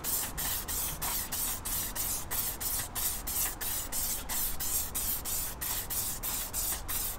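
Clear coat is sprayed onto car wheels in short repeated bursts, each a loud close hiss of the spray can with brief gaps between them in an even rhythm.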